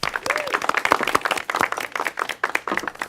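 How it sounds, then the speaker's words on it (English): A small crowd claps for the host's wife at an informal gathering, a dense burst of close, uneven applause that keeps going for a few seconds. "Everyone give a round of applause for my wife here."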